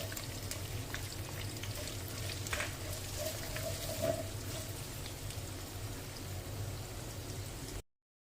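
Steady, faint sizzling and crackling of chopped onions frying in a hot pan for butter chicken, with a few soft clinks and stirring sounds.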